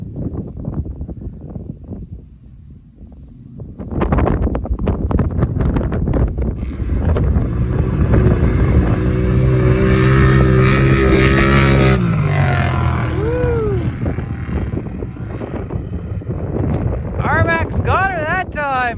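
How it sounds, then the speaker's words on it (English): Rmax 1000 and Wildcat Trail UTVs with performance exhausts drag racing side by side, engines revving loud and close with rising, wavering whines and heavy wind buffeting into the microphone, with brief voices near the start. "Rmax versus Wildcat with just the performance exhaust."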